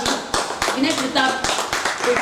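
An audience at a Hindi poetry gathering (kavi sammelan) in Faridabad claps to welcome poet Vinay Partap, with sharp scattered hand claps mixed into ongoing talk.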